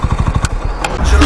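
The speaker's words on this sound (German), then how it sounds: "Sound vom Akrapovic ist auch nicht schlecht" A 2017 KTM Duke 125 ABS motorcycle with an Akrapovic exhaust runs close by, its single-cylinder engine giving a quick train of throbbing pulses that swell into a louder rumble near the end, with a voice over it.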